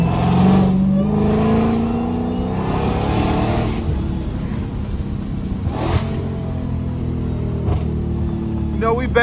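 A straight-piped Dodge Hellcat muscle car on the move, its engine making a loud, deep continuous rumble that swells as the revs climb early on, then settles into a steady drone with occasional surges.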